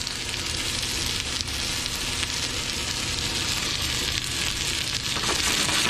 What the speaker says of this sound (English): you are caramelizing and sauteing the onions